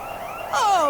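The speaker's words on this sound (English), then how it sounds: "the impact of his blinding blast triggers the security alarm" A security alarm sets off suddenly midway, a loud rising and warbling electronic tone that rings on alone after a brief stretch of quieter background.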